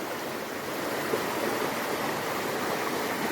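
Steady rushing water of a river flowing at Ramanadhi dam near Kadayam, a continuous broadband wash close by with no voices.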